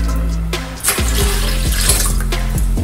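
Cold water is poured into a mason jar holding lavender and lemon, giving a close, steady splashing and gurgling fill with a few clinks against the glass and no voices.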